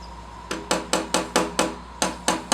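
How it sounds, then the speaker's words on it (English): Light hammer taps on rivets while assembling an AirScape 4.4e whole house fan: about nine sharp, evenly spaced metallic knocks, close and clear, over a quiet room with a faint steady hum. "Don't hit it too hard, just give it little taps."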